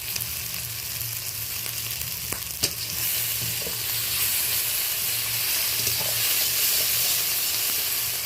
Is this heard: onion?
yes